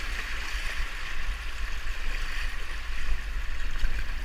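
The River Spey rushes steadily around a canoe on its descent, a continuous broadband hiss of moving water close by, with no voices.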